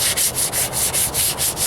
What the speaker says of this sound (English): So now I'm just going to sand down some of this, rub in the rough spots